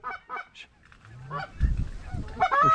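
Specklebelly geese honk in flight over a North Dakota hunting field, a series of loud, close, rhythmic calls, a few overlapping, with some low rumbling noise underneath.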